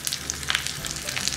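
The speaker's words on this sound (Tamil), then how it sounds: "ஒரு டேபிள் ஸ்பூன் எண்ணெய் நான் வந்து சோப்பு தாளிக்கிறேன்" Fennel seeds tempering in a tablespoon of hot oil for a South Indian rava kichadi. The sizzle is brief, close and steady, with sharp crackling pops scattered through it.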